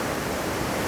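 Strong waves rushing steadily at Parshuram Kund in Arunachal Pradesh, a continuous broadband roar of surf and churning water, close and loud throughout with no talking.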